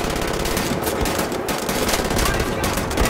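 Dense, continuous automatic gunfire in the Wolfenstein The New Order video game, loud and close, with rapid overlapping shots and explosive bursts filling the whole moment.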